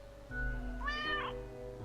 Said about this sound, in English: The cat emits a delighted meow at the prospect.